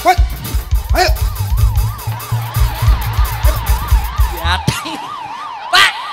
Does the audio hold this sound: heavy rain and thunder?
no